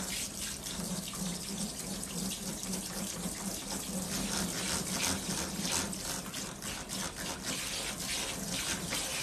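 Running tap water rinsing dye out of hair over a sink, a steady close splashing hiss throughout with slight fluctuations as the stream hits hair and basin, no talk.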